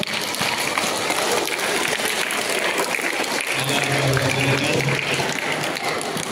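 Applause from an audience at a parish Onam celebration and prize-giving, a loud, sustained crowd clapping throughout with a faint tonal hum partway.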